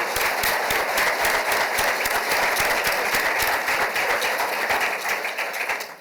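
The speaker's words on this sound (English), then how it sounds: "Please join with me in giving them a round of applause." Sustained audience applause fills the room at a university announcement of a new president, dense steady clapping from a large crowd that holds loud throughout and tapers slightly at the very end.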